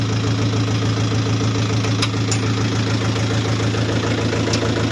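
A walk-behind tractor fitted with ridging ploughs runs steadily while hilling potatoes, its loud, close engine knocking and droning without a break, with a few faint clicks over it.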